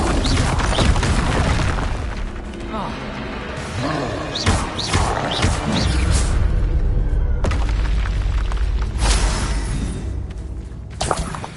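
Confringo fire-blast spells in the Hogwarts Legacy video game, a string of loud booming explosions and crashing thuds that keep going over dense, busy game sound with no pause.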